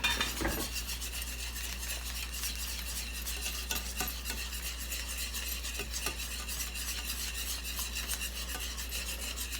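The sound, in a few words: whisking beef bouillon pan gravy for meatloaf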